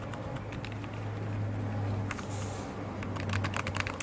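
Keys on a cheap Gearhead mini computer keyboard clack in quick, irregular runs of light clicks, close up against a faint steady hum, with a short pause before a final flurry of keystrokes.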